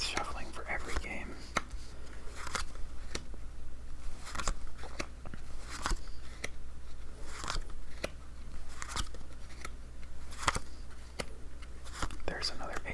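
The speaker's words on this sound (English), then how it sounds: "I'm not going to spend too much time shuffling because we're going to be doing it so often." Playing cards being shuffled for a game of Flower Garden solitaire, giving soft repeated riffling and snapping bursts at close range beneath a steady low hum, with whispered speech running throughout.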